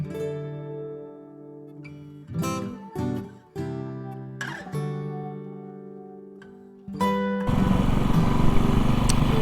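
A motorcycle engine runs with a steady, tonal hum that shifts pitch in several short steps as the revs change, then gives way to a louder, rougher roar near the end.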